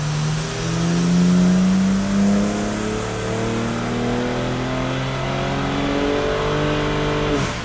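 A BMW M3 G80 engine revving hard on a dyno, loud and steady as it climbs through the gears with rising pitch, heard alone without talk.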